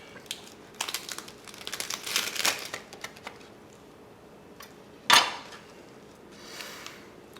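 A knife saws through an Italian tomato sandwich, giving crisp crunching and crackling of bread in short bursts, then a single sharp crunch and fainter rustles, close and quiet with no talk.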